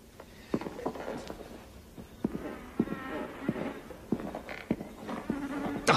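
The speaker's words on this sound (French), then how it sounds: "Ah merde! Putain de moustique!" A mosquito buzzing close by in an outdoor scene, a thin whining drone that comes and goes under scattered knocks and rustles, fairly quiet with no talking.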